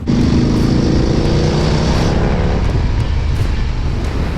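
An Indian FTR R 1200 Carbon motorcycle, a 120-horsepower machine, roars loud and close under hard acceleration. The engine note is thick and sustained, easing slightly toward the end, with no voices over it.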